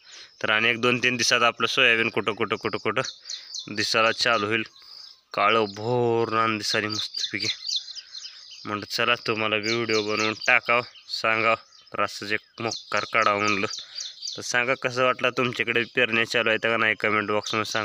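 Birds chirp and tweet over a freshly sown soybean field, planted with a bullock-drawn seeder, their calls faint and continuous beneath someone talking almost throughout.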